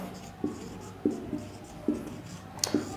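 A pen writing an example sentence on a board or paper during a lesson: a handful of soft, close tapping strokes spaced irregularly over a quiet room, with no voice.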